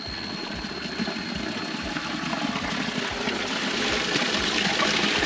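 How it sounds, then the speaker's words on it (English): Natural limestone spring water flowing out of hills into a lake in Guyana, a steady close rushing and trickling wash that holds continuously and grows slightly louder toward the end. "Water coming out from the hills, look at that."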